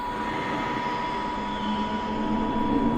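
A Glasgow Subway train running along the Outer Loop between Govan and Ibrox in Train Simulator Classic, giving a steady, continuous rumble and hum of motion that grows slightly louder toward the end.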